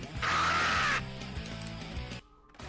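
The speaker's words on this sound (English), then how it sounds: "What was that scream?" A sudden shrill, piercing scream on a livestream bursts out loudly and holds for just under a second, then gives way to steady background sound.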